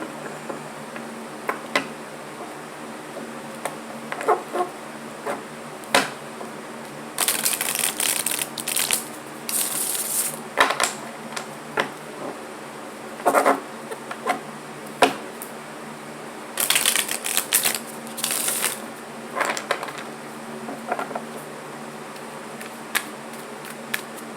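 Tarot cards are shuffled close by in bursts of crisp riffling and shuffling, separated by quiet pauses and occasional soft taps.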